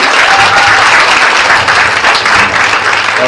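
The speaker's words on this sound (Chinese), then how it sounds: "所以我们给这个家庭一个热烈的掌声" A crowd at a testimony-sharing gathering in Muar, Malaysia gives a family warm applause, a loud, close, continuous roar of clapping that holds steady for over three seconds.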